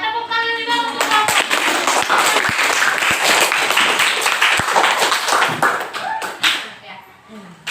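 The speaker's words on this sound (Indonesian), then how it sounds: "tepuk tangan juga untuk kelompok" A classroom group of children clapping for a group of classmates, a fairly loud burst of applause with scattered sharp claps, ending with a teacher's voice speaking.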